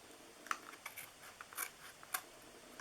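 Scissors snip through craft paper while a carrot-shaped Easter treat box is trimmed, a few short sharp cuts spaced irregularly, quiet and close with no talking.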